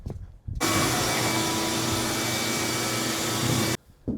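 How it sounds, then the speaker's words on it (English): A vacuum cleaner in a wooden shed being turned into a chicken brooder switches on and runs with a loud, steady whine for about three seconds before shutting off. "So first things first, I'm gonna grab the vacuum."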